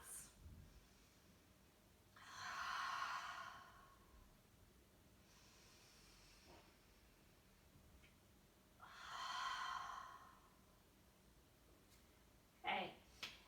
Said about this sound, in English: as you exhale, forcefully blow it out, squeezing the belly to the spine